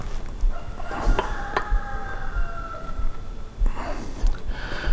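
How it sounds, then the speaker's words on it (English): A rooster crows in the distance, a couple of drawn-out calls rising over steady outdoor background noise. "Our rooster Fred likes to make himself known."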